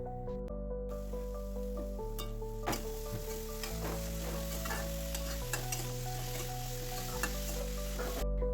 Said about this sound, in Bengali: এরপর একে একে বাকি সবজিগুলি দিয়ে 5 থেকে 7 মিনিট ভেজে নিতে হবে